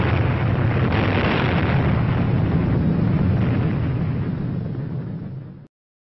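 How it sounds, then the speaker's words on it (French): A massive underwater atomic bomb blast at Bikini Atoll in 1946, heard as a loud, sustained roaring rumble that holds for several seconds and then cuts off abruptly. "une deuxième bombe de même puissance explose sous la surface de l'eau"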